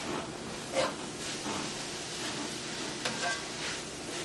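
Sautéed kale seasoned with Accent is stirred in a sizzling pan, a quiet, steady frying hiss with occasional soft scrapes and clinks, close by.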